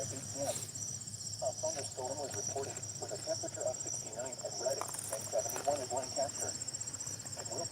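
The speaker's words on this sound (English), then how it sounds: "I love listening to the crickets sometimes, and the frogs." Crickets chirp steadily in a night-time outdoor setting during gusty thunderstorm weather, a continuous high insect trill with faint frog-like calls and light background noise, no speech.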